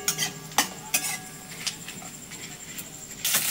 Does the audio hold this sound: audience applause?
no